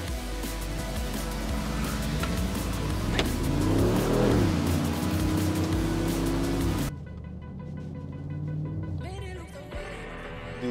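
A Brabus G800 4x4² and a Smart Brabus race side by side, their engines loud and close, revving and climbing in pitch before dropping to a lower, steadier drone.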